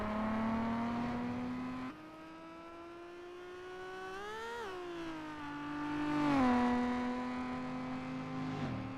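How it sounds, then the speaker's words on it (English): A 2 and 3 litre class race car at the Isle of Man time trial roars past up close, the engine note climbing, dropping sharply with an aggressive gear change, then rising again as it crosses the finish line. "Very aggressive gear change as well from Isidoro as he comes across the line now."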